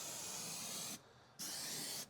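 Adhesive sprayed from a can onto the inside seam of a pillar in a 2023 Ford Transit van: two steady, close hissing bursts split by a short pause, with no talking.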